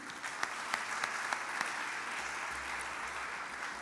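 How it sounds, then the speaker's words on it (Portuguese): A church congregation at an evening family service claps for a member, a few sharp claps at first giving way to a soft, diffuse wash of applause that holds steady to the end. "Vamos aplaudir a sua vida de Júnior"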